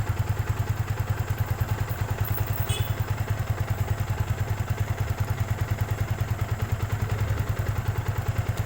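A Yamaha Vixion motorcycle engine keeps running with its coil cable unplugged, a steady close idle with a rapid, even pulsing thump and light mechanical clatter and no talking.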